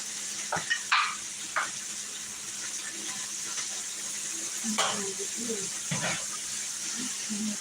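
Food sizzling steadily in a hot pan, a constant hiss with occasional clinks and stirring knocks, and a voice speaking briefly at times.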